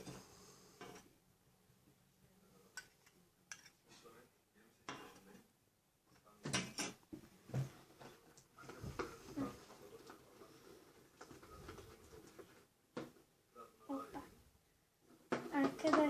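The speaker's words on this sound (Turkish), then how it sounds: "Biraz hızlıca karıştıralım" Pink slime made with borax water is stirred quickly in a bowl, giving quiet, irregular clinks and soft knocks of a utensil against the bowl. Faint voices are present at times.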